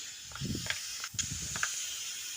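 Ground amla and spices land in a hot wok and set off soft hissing and spattering bursts at close range. A steady hiss runs underneath, and no voices are heard.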